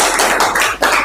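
A group of people clapping together in a classroom session at an Indonesian university automotive engineering program, loud, close, rapid and continuous with a couple of brief dips.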